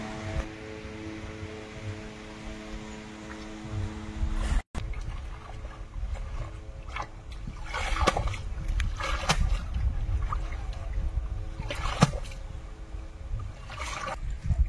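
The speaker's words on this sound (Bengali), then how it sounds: "এখন পুঁই শাক আর আলুটা ধুয়ে নেব, কাদা লেগে আছে পাতার গায়ে।" Malabar spinach and potatoes being washed of mud in water, giving splashing, sloshing and dribbling sounds in irregular bursts, close by over a low background hum.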